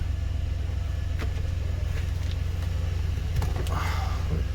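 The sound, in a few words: GMC/Chevy truck engine idling while warming up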